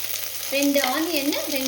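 Onions frying in a pan for chicken biryani, a steady sizzle that swells at about half a second and holds, with a faint tonal hum over it and no talk.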